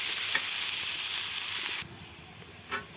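Pieces of rohu fish frying in oil in a home kitchen, a steady loud sizzle that cuts off abruptly partway through, followed by a brief faint clink.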